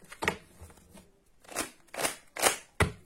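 A deck of oracle cards is shuffled by hand in several short, crisp riffling bursts, close and moderately loud, with brief pauses between them.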